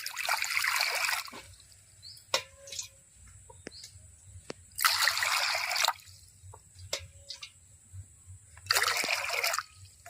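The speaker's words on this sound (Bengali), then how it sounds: "প্রথমে এই গামলার মধ্যে জল দিয়ে দেবো" Water is poured into a mixing bowl in three separate splashing bursts, with quiet pauses and small drips and clinks between them.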